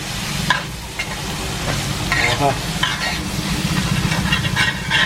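Spices and garam masala fry in oil in a pan on a village cooking fire. A dense, steady sizzle crackles throughout, with brief stirring scrapes mixed in, close and loud, and there is no talking.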